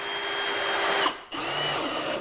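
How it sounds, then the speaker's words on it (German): Cordless power drill driving screws to mount wheels onto a wooden rolling table for a miter saw, a steady close whir that stops briefly near the middle and then starts again. "Jetzt schraube ich das noch fertig an"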